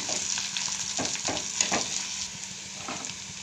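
Curry leaves fry in hot oil before raw potato pieces go in for a potato fry curry, a close, steady sizzle with soft stirring clicks and scrapes.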